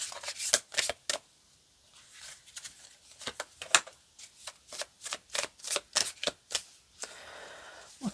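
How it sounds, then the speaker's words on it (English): Tarot cards are shuffled and slapped down in a quiet room, a series of crisp riffles and snaps that come in irregular clusters with brief pauses between them. "Let's pull out a few cards here."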